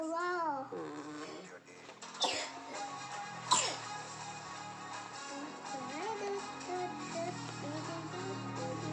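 A sharp sneeze bursts out near the middle amid a noisy household scene, with children's voices, babble and other chatter continuing around it close by.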